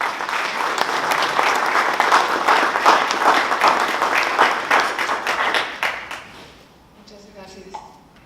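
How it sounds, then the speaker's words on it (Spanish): An audience at a lecture on the artistic legacy of California mission churches breaks into sustained applause, many hands clapping densely for about six seconds before it fades out and a voice begins speaking. "Les pido que le demos la bienvenida a la licenciada con un aplauso."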